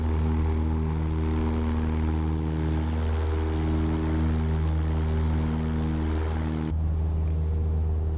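A Cessna seaplane's propeller engine in Microsoft Flight Simulator 2020 drones steadily and loudly in a low harmonic hum, with slight pitch shifts midway and a sudden change in tone near the end.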